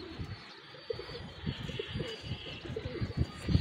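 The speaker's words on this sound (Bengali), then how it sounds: "আজকের ভিডিওর সর্বশেষ কবুতর এক পেয়ার কামাগারের বাচ্চা" Kamagar pigeon chicks coo softly in a series of low, muffled calls with faint rustling in between. No one speaks over the calls.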